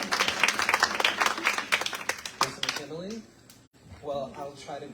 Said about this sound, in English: So everyone, give a round of applause for Jose.